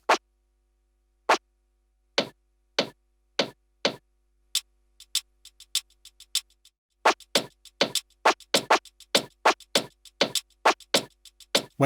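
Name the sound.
switches and hitting, blowing into headset microphone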